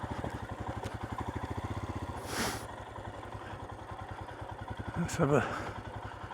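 Royal Enfield Himalayan 411 motorcycle ridden offroad, its single-cylinder engine thumping in a steady rapid pulse close by, with a rider talking over it and brief bursts of wind or clatter.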